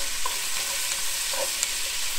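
Onions go into a pan with bacon and are stirred while frying, for a water buffalo roast braised in beer sauce cooked outdoors on a barbecue. A steady close sizzle runs throughout with light scraping, and no voices.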